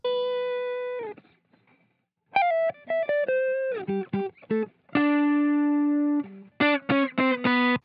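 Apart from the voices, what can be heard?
Strat electric guitar through Guitar Rig with EQ boost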